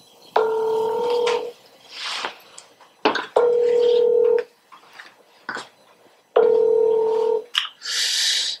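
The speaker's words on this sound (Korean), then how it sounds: "전화를 제발 받아서 한 방에 끝냈으면 좋겠습니다." A telephone is dialed, with three bursts of keypad tones each followed by short gaps and faint ringing-tone chirps, clear and close with no talk.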